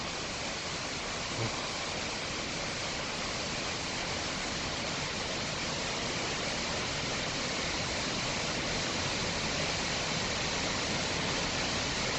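A Himalayan waterfall roars as a steady, broad rush of falling water, dense and unbroken throughout, with no voices over it.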